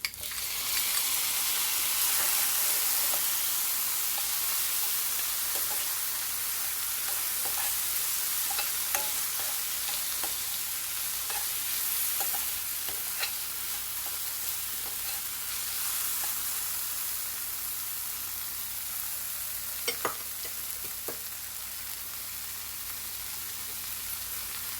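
Onions and tomatoes sizzle steadily in a pan for a pepper chicken dish, a continuous close frying hiss broken by the scrape and clink of a stirring spoon, with no talking.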